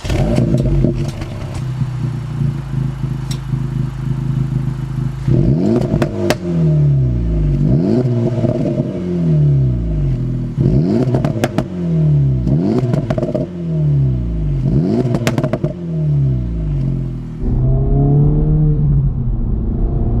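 An Acura Integra Type S engine revs repeatedly through a loud active exhaust, rising and falling in bursts with a deep, crackling rumble between pulls.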